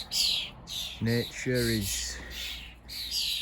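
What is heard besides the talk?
birds chirping, including a blackbird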